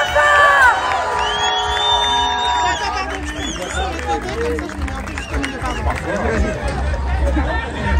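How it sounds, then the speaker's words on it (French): Crowd at an anti-racism, anti-fascism street demonstration in Paris cheering and calling out, a loud mass of voices and shouts with a speaker's voice over the top at the start. "s'il vous plaît, on applaudit bien"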